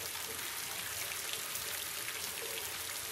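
Steady rain falls in a horror film scene, a dense, even hiss of drops on surfaces that continues unbroken at moderate distance, with no talk heard over it.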